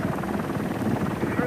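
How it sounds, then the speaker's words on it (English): A police helicopter flies overhead with a steady, throbbing rotor drone and a voice talking over it. "The great advantage of these helicopters is that they can go where cars can't."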